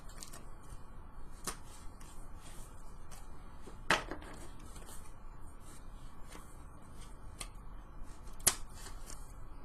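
D&D magic item cards being handled and pulled apart, soft papery shuffling under a low hiss with a few sharper snaps and flicks spaced irregularly, quiet and close.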